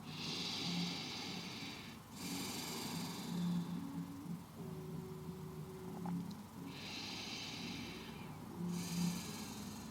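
Slow, deep breaths during a yoga forward fold with chin tucked to chest, soft drawn-out inhales and exhales rising and falling in a steady rhythm, close and quiet.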